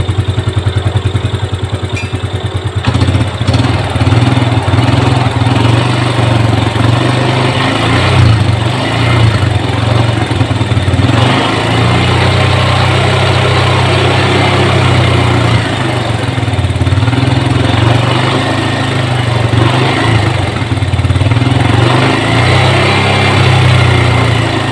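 A Yamaha Jupiter Z1 motorcycle with weak starting is revved during a charging test. The engine opens up after a few seconds and holds a loud, buzzing rev at close range for a long stretch.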